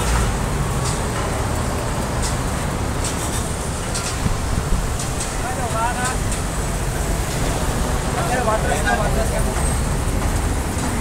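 Roadside traffic noise from many vehicles streams past steadily and loudly, a constant dense roar of engines and tires with no pauses.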